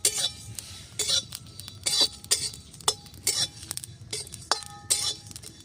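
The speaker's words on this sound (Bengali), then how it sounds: "এবার আমি শুকনো খোলায় কটা মশলা ভেজে নেব" Whole spices (fennel seeds, coriander seeds, cumin seeds and dried red chillies) being dry roasted in a karahi, with repeated light metallic clinks and scrapes of a spoon against the pan at an irregular rhythm, close by with no talk.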